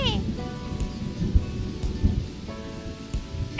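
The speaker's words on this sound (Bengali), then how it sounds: "এই টুকি, বৃষ্টিতে আর কত ভিজবি?" Rain falls steadily in an animated story, a continuous close patter of drops under characters speaking.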